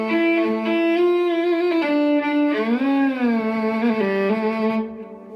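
Electric violin sustains bowed melodic notes layered with echo and delay effects, a smooth continuous line with shifting pitches that rings on and fades at the end.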